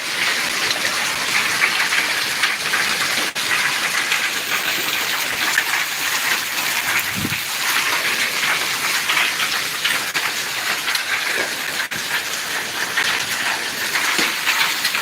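Heavy hail and rain pound down in the village of Rajian in February, a dense, loud, continuous hiss with a few sharper knocks, steady throughout and no voices.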